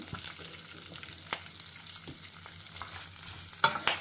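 Curry leaves and asafoetida sizzle in hot oil in a pan, a steady crackling fry with scattered pops and stirring scrapes, close and moderately loud, with no talking.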